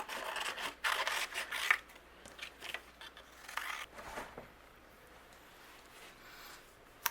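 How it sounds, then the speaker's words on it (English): Small scissors snip steadily and quietly around stamped paper images, a run of short crisp cuts with brief pauses, close and alone without talk. "Now I'm going to fussy cut these out"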